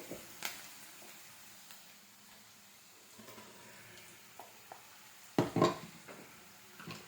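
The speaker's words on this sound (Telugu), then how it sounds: "కరివేపాకు పేస్ట్ వేయాలి ఇందులోకి చూడండి ఇలా మొత్తం కలిపెట్టుకోవాలి" A spoon stirs curry leaf paste into rice in a pan, making soft scraping and occasional clinks against the metal. One louder clatter comes near the end, and no one speaks.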